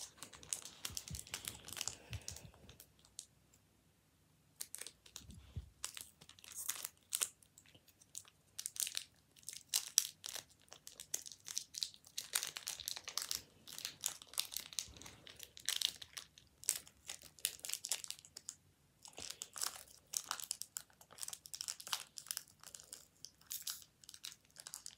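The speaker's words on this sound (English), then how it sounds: "Now let's open this pack." A trading card pack's plastic wrapper is crinkled and torn open close up, in irregular bursts of crackling separated by brief quiet gaps, with no talking.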